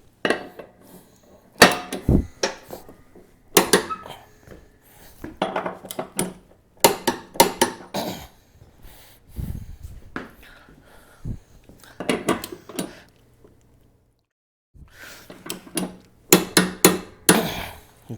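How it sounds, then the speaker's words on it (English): A Kubota RCK60B metal mower deck being handled and flipped over, with repeated sharp metallic clanks and bangs in irregular bursts, separated by short quiet gaps, close and loud, with no talk. "so we have the deck flipped over now"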